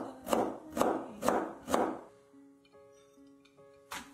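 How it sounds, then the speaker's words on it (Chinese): A knife chops carrot slices into strips on a cutting board: four crisp, evenly spaced chops, close and clear, followed by quieter sustained tones in the background. "胡萝卜切片再切丝"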